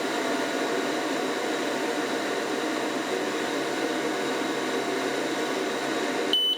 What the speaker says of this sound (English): I'm going to go ahead and click start to engrave.